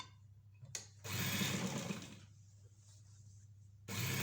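A sewing machine stitches straight seams through fabric in two loud running bursts, with a quieter lull between them and no talking.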